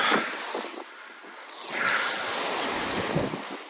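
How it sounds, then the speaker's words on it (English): Steady wind buffeting the microphone outdoors, a continuous broad roar that swells and eases slightly, with no voices. "It is windy today."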